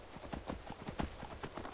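A horse's hooves clip-clop in the Skyrim video game, a quick, even series of soft thuds heard alone, close by and fairly quiet, for just under two seconds.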